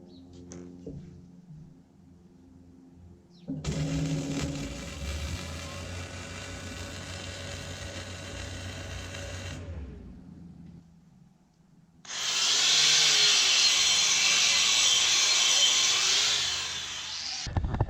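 MIG welding with a Hobart Multi-Handler 200 using a drag technique: a loud, steady crackling buzz runs for about six seconds, then after a short pause a second, harsher and brighter burst lasts roughly five more seconds.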